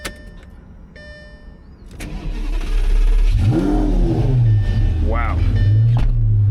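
A 2007 Lamborghini Gallardo 5.0 fires up from a quiet idle, the starter giving way to a loud, sudden roar that swells and then settles into a deep, steady idle with a brief blip, heard up close.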